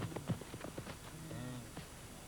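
Hooves of young wildebeest bulls running on open savanna at the end of the rainy season, a quiet patter of hoofbeats with dull, uneven thuds under faint background noise.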